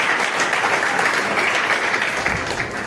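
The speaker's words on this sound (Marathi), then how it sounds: "तर एकदा जोरदार टाळ्या होऊन जाऊ ना." A women's group audience at a Jain quiz competition applauds together, a dense, even wash of clapping that holds steady for a few seconds without any talking.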